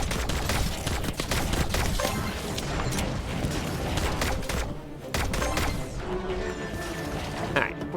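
Gunfire in the life-sim game My Time at Sandrock crackles as dense, rapid shots fired almost continuously, loud and close, with impacts and clatter mixed in and a brief lull before more shooting.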